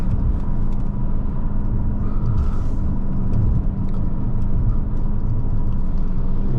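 A 2003 Mercedes-Benz CL500 under way produces a steady, loud low rumble of engine and road noise inside the cabin, with a brief hiss partway through.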